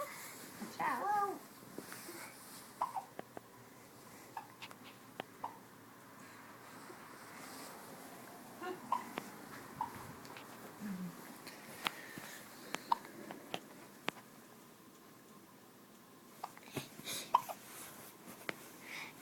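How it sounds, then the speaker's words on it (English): Baby hiccups, small sharp chirps that pop up repeatedly and irregularly across a quiet, hissy room, faint and close, with soft background chatter between them. "Dueling hiccups."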